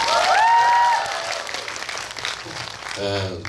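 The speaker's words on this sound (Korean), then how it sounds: "박수 부탁드립니다." A cinema audience claps briefly at a movie talk event for the film Steel Rain in the Megabox COEX MX hall. The broad wash of applause sits between stretches of someone speaking into an amplified microphone.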